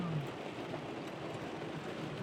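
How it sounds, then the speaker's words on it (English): Soft, steady rain in the high mountains of Colorado during a storm hisses faintly, an even wash of patter with no other sounds standing out. "It's raining now."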